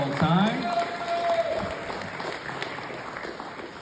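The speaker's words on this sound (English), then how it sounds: "Let's give them all a round of applause." Wedding guests applaud in a sustained round of clapping that swells at the start and gradually eases, with a voice and a whoop briefly audible over it.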